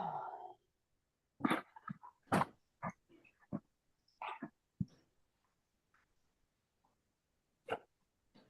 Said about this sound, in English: Let me go get the dog because she's being really loud and obnoxious.